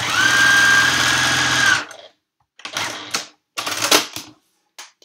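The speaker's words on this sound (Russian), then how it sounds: "Снова ставлю шитье под иглу. И с припуском 6 мм еду вот до этой точки" A sewing machine stitches fabric in a fast, steady run for nearly two seconds and stops, then follows with a few short stitching bursts separated by silence.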